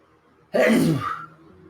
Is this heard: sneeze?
yes